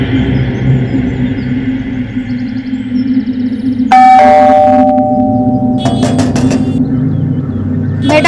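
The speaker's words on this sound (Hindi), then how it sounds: "तभी घंटी बजी।" A doorbell chimes near the middle, a bright two-tone ring that lingers, followed by a clattering burst, all over a steady low rumble of background noise.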